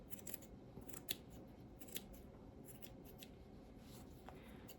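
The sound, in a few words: scissors trimming rag doll hair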